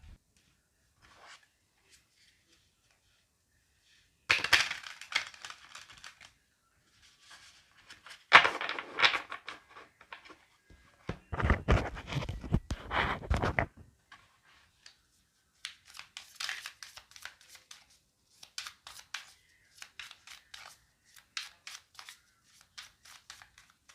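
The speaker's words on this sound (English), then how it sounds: "let me shuffle for more cards real quick" Tarot cards being shuffled in bursts of quick riffling and rubbing, several separate rounds with pauses between, close and fairly quiet with no talking.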